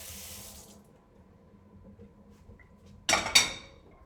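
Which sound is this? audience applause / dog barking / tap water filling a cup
tap water filling a cup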